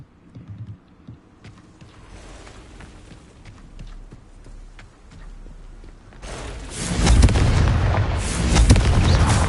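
Confringo fire spell in Hogwarts Legacy bursting into a loud, roaring blast partway through, after a quieter stretch of scattered thuds and rumbling in a cave maze.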